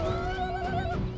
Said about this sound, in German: Der hängt am Pferd fest.